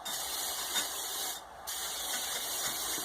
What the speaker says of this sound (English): Gonna give it some hairspray, and I'm just using a Tresemme number 4 hairspray.